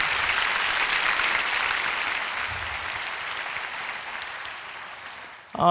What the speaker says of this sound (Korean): 우리 응원의 박수 한번 보내주시기 바랍니다